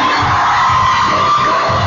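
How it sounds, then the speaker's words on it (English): Crowd at a cheer competition roars and yells for a back handspring back tuck, a dense loud wash of cheering filling the whole moment without a break. "the back handspring, back tuck gets a little bit of noise"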